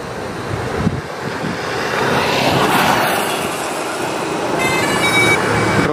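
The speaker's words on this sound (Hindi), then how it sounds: "अभी ड्रोन चालू, स्टार्ट।" A DJI Spark mini drone spins up its motors outdoors, a rising whirring hum that swells over a few seconds into a steady close buzz, with wind noise and a high tonal whine near the end.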